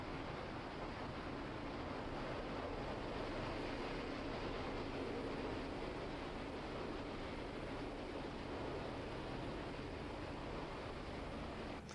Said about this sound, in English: I still don't know how accurate that, like, jet engine noise is from the Bell 407